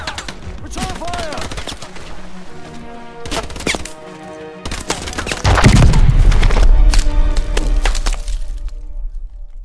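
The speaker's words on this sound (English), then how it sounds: "Return fire!" Gunfire in Call of Duty: Advanced Warfare, with sharp cracking shots and bursts at irregular intervals over layered game music and effects, ending in a heavy, booming stretch of rapid fire.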